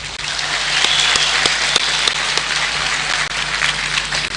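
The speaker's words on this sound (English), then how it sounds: "Let's give it a clap." Graduation ceremony crowd applauding the graduates, a dense, steady wash of many hands clapping at once, loud and sustained for the whole stretch with no voices over it.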